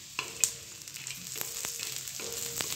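Onion and dry coconut roast in oil in a pan, giving a soft, steady sizzle broken by a few sharp spatula taps and scrapes, close and fairly quiet, with no voices.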